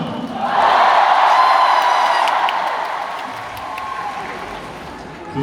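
A large audience at a live concert in Cheonan roars and cheers loudly and continuously, the sustained crowd noise swelling early and slowly easing, with scattered whoops on top.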